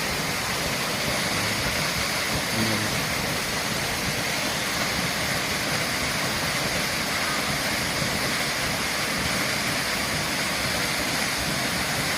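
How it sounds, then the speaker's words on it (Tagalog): Waterfall at Banilad Falls pours steadily, a dense, continuous roar of falling water that stays even and close throughout with no voices. "Enjoy ito guys sa waterfall sa Banilad."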